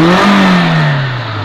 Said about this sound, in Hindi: ये देखिए जी, अब मैं एक्सीलेटर देता हूँ, इंजन कहीं पे भी रुक नहीं रहा